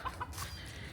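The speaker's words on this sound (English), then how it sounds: "The rooster, he's down near the yard all the time talking." A rooster gives a few quick, faint clucks close by in a yard, ending within about a second, with no talk.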